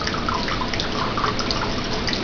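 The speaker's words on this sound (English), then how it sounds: "I'm going to put a splash of wine." Wente wine splashing into a pan as it is poured for corned beef and cabbage, a steady close liquid trickle lasting about two seconds with no talking.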